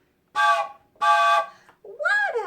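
A voice imitates a train whistle, giving two loud sustained toots followed by a rising, bending third blast, each clear and close in an otherwise quiet room.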